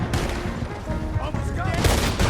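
Gunfire in a Red Dead Redemption 2 shootout, dense and continuous shots crackling over a busy mix of game noise and shouting voices throughout.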